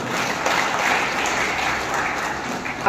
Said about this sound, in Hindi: भाई साहब के लिए एक बार जोरदार ताली बजा दें